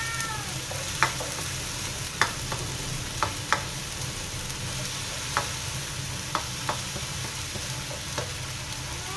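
Blended garlic and ginger sautéing in a pan with a continuous sizzle, broken by sharp spoon-on-pan clinks every second or so as it is stirred, with no voices.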